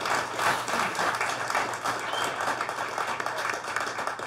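Audience applause at a 2013 straight pool match between Mika Immonen and Oliver Ortmann, a steady wash of clapping from a crowd that holds evenly throughout with no pauses.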